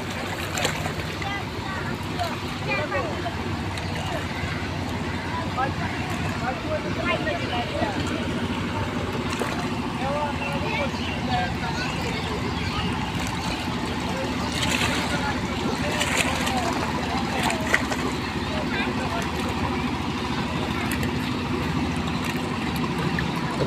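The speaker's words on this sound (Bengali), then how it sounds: "দেখেন যে ইঞ্জিন চালিত নৌকাগুলা চলতে আসছে" Engine-powered boats run across floodwater in Companiganj, Sylhet, a steady motor drone over lapping waves with voices talking throughout.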